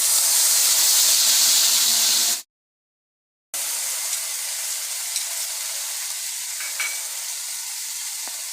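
Ginger, cumin, mustard seed, dried chilli and turmeric frying in oil hiss loudly and steadily, then after a short silent gap a softer, continuous sizzle returns with faint scattered crackles as a little water cooks off.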